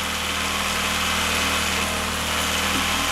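A Yamaha F15 outboard motor idling just after a valve adjustment, a steady even hum with a fine rapid pulse, close and constant throughout, no speech.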